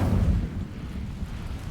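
Incendio fire spell cast in Hogwarts Legacy, a brief loud whooshing burst with a deep rumbling roar that fades slightly and lingers as a low crackle.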